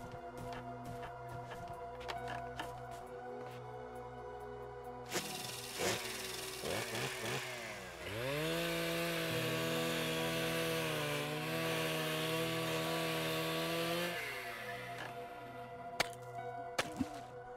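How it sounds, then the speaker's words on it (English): In the adventure game Runaway: The Dream of the Turtle, a chainsaw revs up and grinds steadily through ice for several seconds, a sustained buzzing drone that then cuts off, with scattered clicks before and after. "All right, ice, now the chainsaw's ready."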